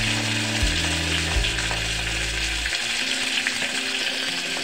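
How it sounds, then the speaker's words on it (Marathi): Finely chopped onion and green chillies fry in a pan with a loud, steady sizzle, while a low mechanical hum runs underneath for the first few seconds and then stops. "बारीक चिरलेली मिरची टाकत आहे। बारीक चिरलेला कांदा टाकत आहे आता।"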